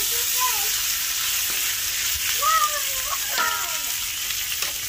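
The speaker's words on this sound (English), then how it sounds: "we're caramelizing these vegetables a little more" Vegetables caramelizing in a Dutch oven give off a steady, continuous sizzle and crackle throughout, with a voice talking over the frying at times.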